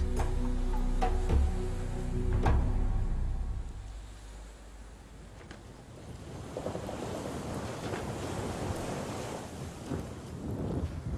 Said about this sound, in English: We're sailing towards the old trading port of Zanzibar.